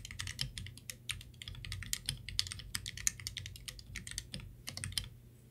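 Fast, continuous typing on an upgraded GK64/GK61 mechanical keyboard, crisp key clicks in quick irregular bursts, close up, with a faint low hum beneath.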